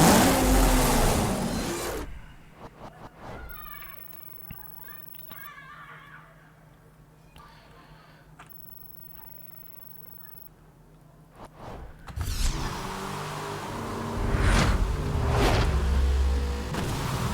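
A Dodge car with a V12 engine in the racing game Need for Speed: Hot Pursuit (2010) roars loudly at the start, drops to a quiet, tonal stretch, then surges back into a long, loud run of engine noise.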